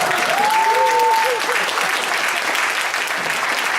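Conference audience applauding at a corporate knowledge festival closing, a steady dense wash of clapping throughout, with a brief voice rising over it near the start.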